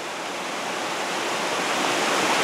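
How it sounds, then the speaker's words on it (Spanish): River water from a creek rushes steadily into a sand trap intake, a dense continuous hiss and roar close at hand that swells slightly louder toward the end, with no voices. "Ahí va, el agua viene de allá, de ese río,"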